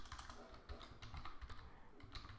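Quiet, steady typing on a computer keyboard while coding CSS, a soft run of closely spaced key clicks under low background noise.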